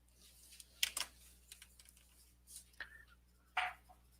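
A colored pencil scratches across paper while swatching, making short, dry, close bursts of scraping strokes with quiet pauses between them.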